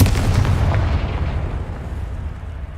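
A Confringo blasting curse goes off in the Hogwarts Legacy video game, a loud, heavy explosive boom with a rumbling low-end tail that slowly fades, with no voices.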